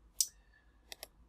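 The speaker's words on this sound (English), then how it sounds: "I'm using my arrow keys on my keyboard to do the nudging" Arrow keys on a computer keyboard give three quiet, close clicks, one alone and then a quick pair about a second later, in an otherwise hushed room.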